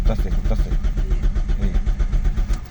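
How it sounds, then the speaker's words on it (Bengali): The starter of a manual car cranks the engine with a loud, close, low rhythmic churning that settles toward a running engine, while someone talks over it. "সেল ঘুরতেছে"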